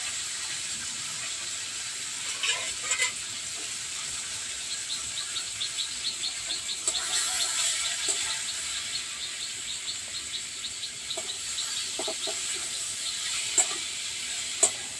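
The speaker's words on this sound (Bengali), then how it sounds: "দেখো কোচার মাংসটা বসাইছি আমি" Mutton curry meat sizzling steadily in a hot pan, a continuous close crackling hiss with brief louder pops scattered through it, no voices.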